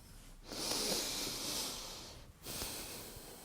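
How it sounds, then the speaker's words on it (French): A deep breath drawn in during a guided hypnosis session, a soft airy inhale that swells for about two seconds, pauses briefly, then resumes, close and quiet with no talking. "je vous invite à prendre une inspiration très profonde"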